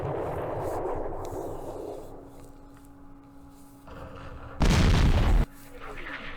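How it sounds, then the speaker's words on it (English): Artillery fire in the war game Campaign Series Vietnam, during the Battle of Ba Ria 1968, lands as one loud, sudden boom that stands out against a quieter background of low rumble. "Will the artillery save the day?"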